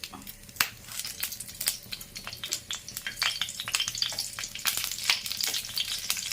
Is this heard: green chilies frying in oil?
yes